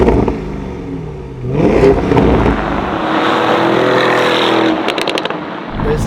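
A black Novitec widebody Lamborghini Urus S Esteso with upgraded power starts from idle, then its engine rises into a loud, deep rev as it drives off, holding a strong steady roar before easing with some clatter.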